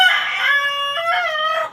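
A native deshi rooster crows once, loud and close, a long harmonic call that rises, holds and falls over nearly two seconds with no talking.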